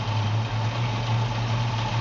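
A 1956 Chevrolet pickup engine idles steadily, a smooth, even low rumble with a constant hum, close and alone without talking.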